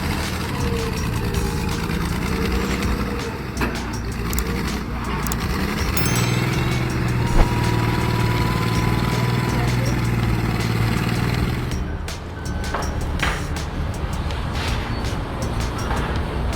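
A heavy equipment engine, such as a bulldozer or excavator, roars in a steady, loud rumble with clanking and grinding noise throughout. Voices can be heard over it.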